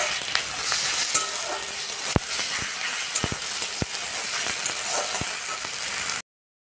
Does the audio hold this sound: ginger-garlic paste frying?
yes